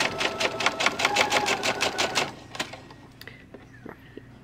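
A sewing machine stitches fabric while piecing a nine-patch quilt block, giving a quick, even run of mechanical clacks for about two seconds. It then stops, leaving a few faint scattered clicks and handling sounds.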